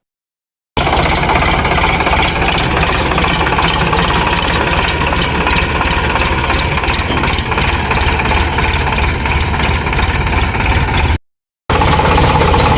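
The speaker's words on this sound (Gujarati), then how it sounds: "ચાલુ હરાઈએ રોટાવેટર આપણું કેવું ચાલે છે જોઈએ" Loud, continuous engine drone of a Sonalika tractor running a rotavator on a field, a constant rattling roar close by, briefly cut off near the end, with no talking.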